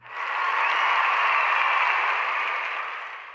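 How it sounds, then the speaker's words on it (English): A Messenger Soundmoji clapping sound effect plays from a phone: a dense, steady burst of applause-like noise that swells quickly, holds for about three seconds and fades slightly at the end. "you can hear the clapping emoji makes a clapping sound"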